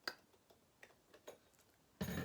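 A clock ticking faintly and steadily, a few soft evenly spaced ticks heard close by, ending in a brief louder rustle.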